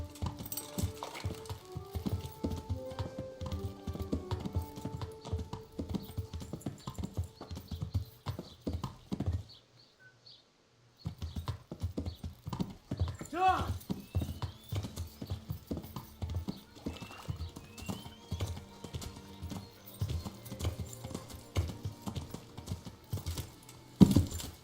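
Steady clip-clop of horse hooves in Kingdom Come: Deliverance, trotting in a continuous rhythm with a faint whinny. The hoofbeats cut out briefly for about a second, then resume at the same pace, close and clear.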